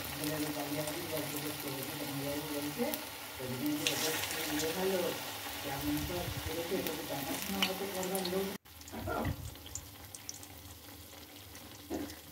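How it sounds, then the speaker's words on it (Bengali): Cabbage pakoras frying in hot oil give a steady sizzle throughout, with a short break near the end before the sizzling picks up again, close and moderately loud. "বাকিগুলো ঠিক এমনভাবে ভেজে নেব।"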